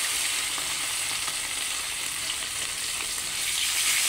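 Fish frying in very hot cooking oil for sinigang na isda, a steady, bright crackling sizzle throughout, close and fairly quiet with no one talking.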